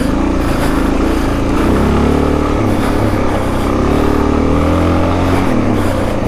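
A Suzuki DRZ400 dirt bike with a new sprocket rides a snowy trail with berms, its single-cylinder engine droning loud and steady with rises and dips in revs throughout, alone with no talk.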